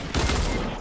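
A dense, continuous burst of gunfire from a video game battle, loud and close, filling under a second with no pause.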